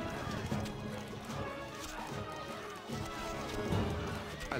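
Horses gallop in the strategy game Stronghold: Crusader Extreme, a busy rumble of hooves mixed with clashing, crashes and battle noise, dense and continuous throughout at fairly close range.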